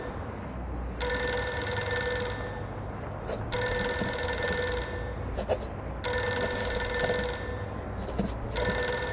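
A telephone rings in the video game Reverse: 1999: three long, bright, buzzing ring bursts separated by short gaps, clear and steady over a faint low background.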